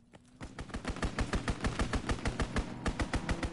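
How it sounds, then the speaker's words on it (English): Machine gun fire from an enemy strafing run in a WW2 video game, a long steady stream of loud, evenly spaced rapid shots with a brief stutter near the end, with no talk. "Taking fire! Fire. Enemy strafing run inbound."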